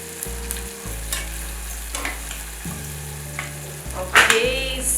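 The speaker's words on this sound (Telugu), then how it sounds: "ఆనియన్స్ ఫ్రై చేసుకుంటాము" Onions frying in oil for mutton keema, a steady pan sizzle with a few stirring scrapes and clinks, a low hum running underneath and a brief louder stir near the end.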